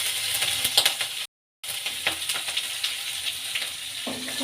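Green chillies, urad dal and mustard seeds fry in hot oil for a lemon appehuli, crackling and popping close by with scattered sharp spits; the sizzle cuts out briefly to silence and then resumes, with no speech.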